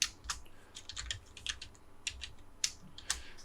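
Someone types a short AP command on a computer keyboard to load a CAD Lisp file in ZWCAD. A quick run of crisp, close key clicks rings out with a louder final keystroke.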